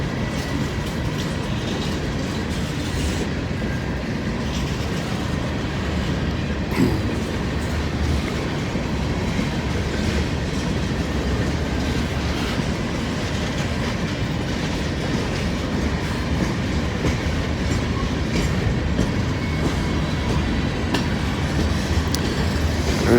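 A freight train rolls along the tracks and gradually gathers speed, giving a steady, moderately loud rumble with wheel clatter and occasional clanks, heard alone without voices.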